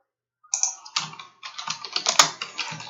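Typing on a computer keyboard while writing code, a quick run of close, crisp key clicks in uneven rhythm lasting a couple of seconds.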